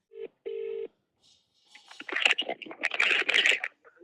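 Two short electronic phone keypad beeps ring out, followed by a burst of rapid tapping and clicking, nearby and fairly loud.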